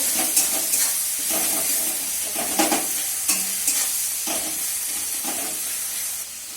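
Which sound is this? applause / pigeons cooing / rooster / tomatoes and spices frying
tomatoes and spices frying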